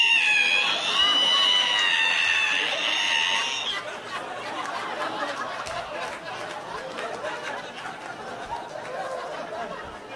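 A voice imitates a creaking ironing board being opened, a high, strained, wavering screech for a few seconds, followed by audience laughter and chatter in a stand-up comedy setting.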